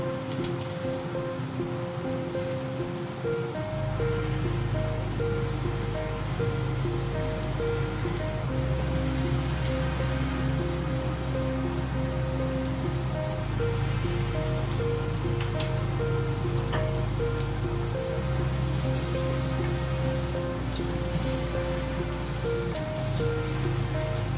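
Onions dropped into hot cooking oil in a pot for beef paya sizzle and crackle in a steady, loud hiss that continues without pause, with no talking.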